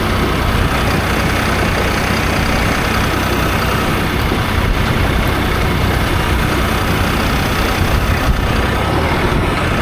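A New Holland T4.80 tractor's engine runs steadily at idle nearby, a constant low diesel rumble with no change in pace throughout.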